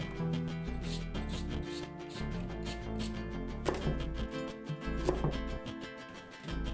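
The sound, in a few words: knife chopping vegetables coarsely into cubes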